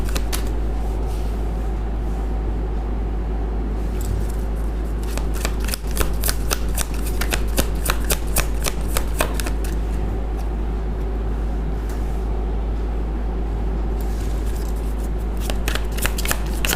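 A tarot deck is shuffled in a steady run of crisp riffling card flicks, with bursts of rapid snapping through the middle and again near the end, over a constant low hum and no talking.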